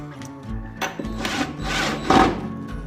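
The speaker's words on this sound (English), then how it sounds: "if I could screw this right here, it should make a pretty secure latch" A screw is driven into wood to fix a latch in place on a homemade touch-free donation box, heard as close, uneven grinding and rubbing strokes over a few seconds.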